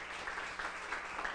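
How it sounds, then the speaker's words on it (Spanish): A church congregation applauds during a Sunday service, a soft, distant wash of many hands clapping that carries evenly from start to finish. "Dele un aplauso a la palabra de Dios."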